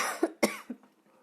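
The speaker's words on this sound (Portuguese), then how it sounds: "Gente, eu tô aqui segurando tosse" A woman at home lets out one short, close cough of a few quick throaty bursts, followed by a brief quiet tail.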